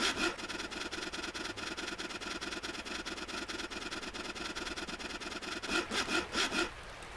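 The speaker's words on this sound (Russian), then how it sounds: "И пойдем дальше пилить нашу древесинку. Так, выбираем пилу. И давай опять пилить." A saw cuts through wood in the video game Blight with quick, steady back-and-forth rasping strokes, close and continuous for several seconds, then a few heavier, slower strokes near the end.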